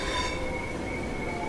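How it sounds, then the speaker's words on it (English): A Class 375 Electrostar train rolls into a station platform in a driving simulator, a steady rumbling roar with thin squealing tones from the wheels and no voices. "There's the train."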